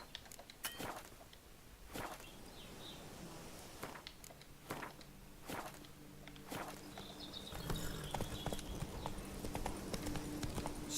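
Roach, the horse in The Witcher 3: Blood and Wine, walks with a steady, evenly spaced clip-clop of hooves. The hoofbeats are fairly quiet over a soft outdoor ambience that grows slightly busier toward the end.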